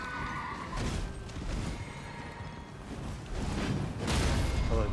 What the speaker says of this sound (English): Get that horse down.